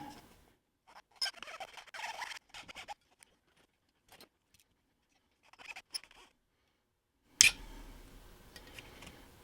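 Wooden bracing from a Mudd Creek model building kit being cut by hand, heard as a few short, faint snipping and crunching bursts separated by near silence, with one sharper, louder cut and a lingering rasp near the end.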